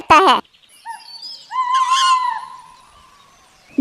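An owl in a Hindi cartoon hoots in clear, close calls: a short burst, then a long drawn hoot with a wavering cry, heard alone with no talk.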